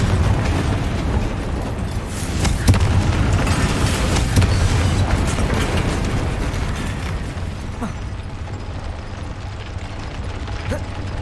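Confringo spell blasts in Hogwarts Legacy, a steady dense roar of fiery bursts and crackling pops with mechanical clatter, loud and continuous throughout.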